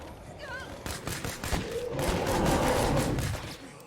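Gunfire in State of Decay 2, a rapid run of close, loud shots layered over a dense, rumbling battle din, with the crackle carrying through the whole stretch.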